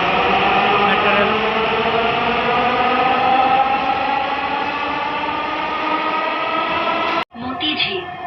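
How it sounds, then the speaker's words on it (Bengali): A Dhaka metro rail train carries riders toward Motijhil, a loud steady hum and rumble of the moving carriage with a rushing high-pitched whine sustained throughout, cut by a sudden brief drop near the end before noise resumes. "metro rail"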